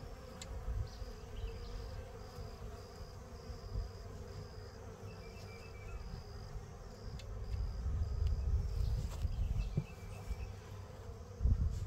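Honeybees swarm around a hive, a dense continuous buzzing drone that swells and fades as insects fly close by, with no voices.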